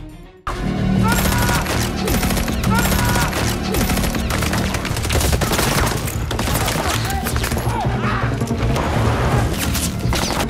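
Dense rapid bursts of gunfire from a group of masked men rattle on continuously and loudly for about ten seconds, with booms and crashing layered in.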